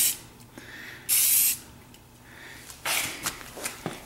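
Bursts of spray paint hiss onto a gun in short, close passes, two long sprays with quieter gaps and a few brief puffs near the end, with no talking.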